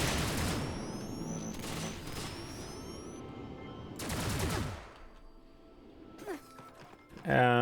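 Rapid gunfire from a gun in a self-made game level, bursts of quick repeated shots with sharp transients over the first five seconds, then sparser thuds and a closing impact, moderately loud.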